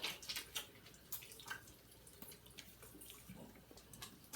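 Water splashes faintly and intermittently at a sink as a face is washed under running water. The splashes are soft, close and irregular.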